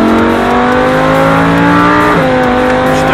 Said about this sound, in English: On the throttle, all the way to the floor, Sylvia.